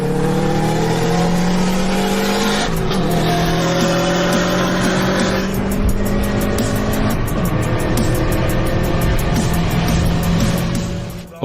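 An Audi A3 tuned to 320 horsepower accelerates hard, its engine note climbing through rising revs with a gear change partway, loud and close for the whole run before easing off at the end.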